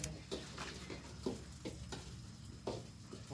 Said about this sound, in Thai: นี่ก็คั่วปลาแห้ง